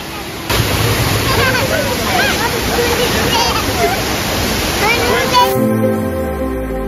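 The large indoor waterfall at Changi Airport in Singapore pours with a loud, even roar while people's voices carry over it, until the rush cuts off abruptly just before the end.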